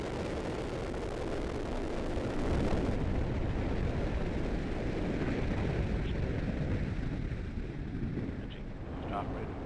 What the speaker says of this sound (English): We have ignition and liftoff of the United Launch Alliance Atlas V rocket, carrying the proto-flight mission for Amazon's Project Kuiper